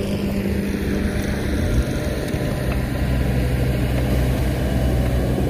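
A Kubota excavator engine runs steadily and loudly close by as an 18-inch bucket is swapped for a 9-inch one, a continuous low diesel drone with no breaks.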